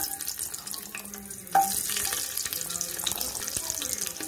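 Oil sizzles and crackles steadily as small shallots fry for Tamil-style white kurma, with a brief clink partway through and a constant hiss throughout.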